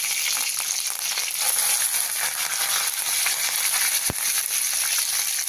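Ginger, garlic, green chili and coriander paste with curry leaves sizzling in hot oil in a pan for a stuffed brinjal bharit, a steady close crackling hiss with one sharp pop near the end.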